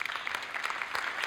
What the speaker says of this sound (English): he gets a round of applause at the funeral